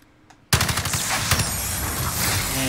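Gunfire in a Call of Duty game erupts suddenly after near silence, a loud sustained burst of rapid automatic fire and explosions that fills the rest of the stretch with no talk.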